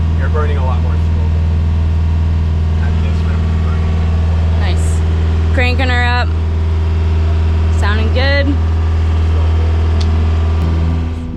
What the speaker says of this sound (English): we got the engine up and running just as the advisor was beginning to board